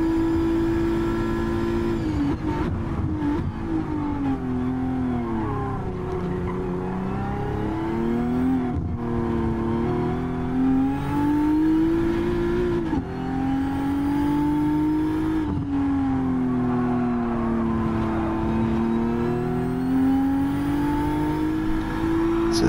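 Race cars accelerating around a track at a Fuji event: a loud, close engine note that climbs and falls in repeated waves as the gears shift and the cars move through corners and straights, with no talk.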